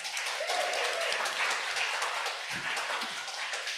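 A round of clapping from a small poetry-reading audience, brisk and close, holding steady for several seconds with scattered voices underneath.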